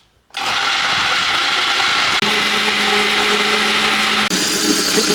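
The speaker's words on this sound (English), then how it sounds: "we are going to blend until smooth and we have a milk-like consistency" A blender whirring loudly and steadily as it blends macadamia nuts and water into milk, starting abruptly after a moment of quiet, with two short dips where the motor pitch shifts.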